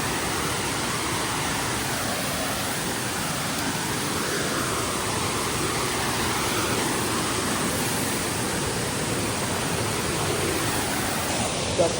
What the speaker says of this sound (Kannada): ಕಾಂತಾರ ಫಾಲ್ಸ್.